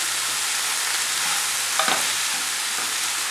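An egg and tomato mixture fries in a pan with a bright, continuous hiss, and a brief scrape of stirring cuts in midway, close up with no talking.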